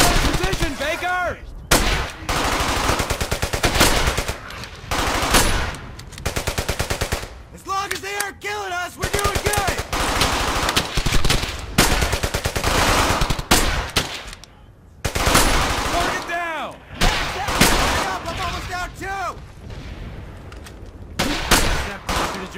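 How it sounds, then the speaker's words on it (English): Dense machine-gun and rifle fire rattles almost nonstop in the World War II shooter Brothers In Arms: Hell's Highway, loud and close, with bursts and brief lulls amid the battle noise. "Open fire! Sam! Fire! Don't stop firing!"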